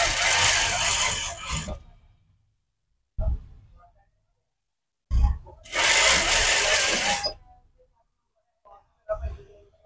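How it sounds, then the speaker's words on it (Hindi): A sewing machine stitches trouser fabric in two sustained runs of fast, loud motor whirring, with short clicks and handling noises between them and silence in the gaps; someone talks softly at times. "अब मैं सिलाई लगा रहा हूं खींचे बगैर।"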